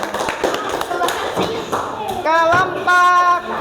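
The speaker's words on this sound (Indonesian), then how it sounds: "Tepuk tangan untuk kelompok Adam berdua." A classroom audience claps for a student group, scattered uneven hand claps and taps close by, with voices talking over and under them.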